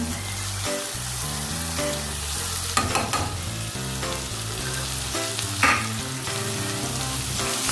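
Chicken hits a hot pan and sizzles loudly and steadily while being stirred, with scraping and stirring noises throughout and no voices.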